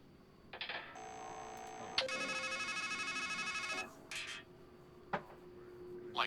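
A payphone in the video game Strangeland, a close electronic ringing burst followed by a longer buzzing ring, then short scattered clicks and tones, with no talk.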